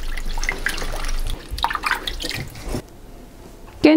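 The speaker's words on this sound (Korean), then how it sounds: "물 붓고 육수 내도록 할게요." Water pours and trickles into a pot to start a broth for spicy perilla leaf kimchi, a close splashing stream with drips that stops abruptly, followed by a short clink.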